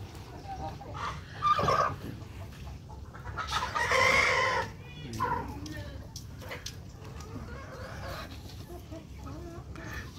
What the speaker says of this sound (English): Ito po yung mga native chicken. May Rhode Island.